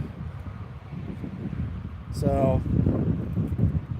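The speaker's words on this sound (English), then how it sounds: "sorry about the wind if that's all you're hearing." Gusty wind buffets the microphone outdoors in Iowa while fishing poles are rigged, a steady low rumble that swells louder midway as a voice speaks over it.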